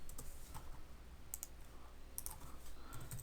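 Quiet keyboard typing at a computer comes in sparse, faint clicks and short taps with uneven gaps, over a soft background hiss.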